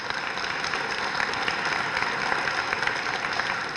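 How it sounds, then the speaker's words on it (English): Audience at a correctional officer class commencement ceremony applauding staff, a steady dense wash of clapping held at even loudness throughout with no talk over it. "Please give them a round of applause."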